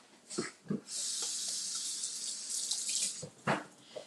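Hands washed under a running kitchen tap during a live fish taco cooking demonstration, a steady close hiss of flowing water lasting about two seconds, framed by clunks and splashes as it starts and stops.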